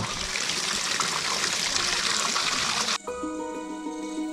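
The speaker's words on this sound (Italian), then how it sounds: "Ecco l'acqua dell'eterna gioventù." Water trickles and splashes steadily from a mountain spring in Bolivia, close and constant for about three seconds, then cuts abruptly to quiet.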